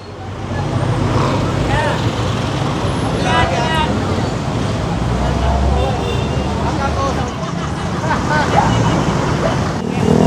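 Heavy street traffic rumbles close by in Malabon, Philippines, during a street clearing operation, with motorcycle and vehicle engines droning continuously while people talk over the noise.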